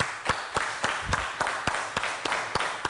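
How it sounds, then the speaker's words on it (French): An audience claps in a steady, sparse rhythm, a dozen or so sharp distinct claps spread evenly at moderate loudness, with no talk over them. "Ça s'applaudit."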